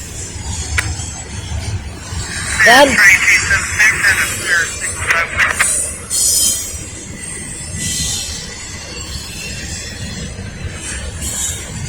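A Norfolk Southern freight train rumbles past nearby near a rail yard with a rising metallic screech and clanking wheels, then the noise fades to a steady low rumble.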